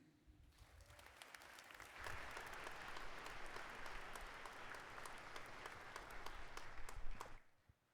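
Sustained applause from a commencement audience welcoming a speaker at a graduate ceremony, swelling quickly to a steady roar of clapping and then cutting off sharply after about seven seconds.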